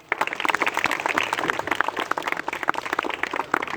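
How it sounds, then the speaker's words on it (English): Students at a school Hariyali Mahotsav celebration applaud the dignitaries, giving a few seconds of brisk, crackling hand-clapping from a large group, steady and fairly close, with no talking over it. "one big clap for all of you"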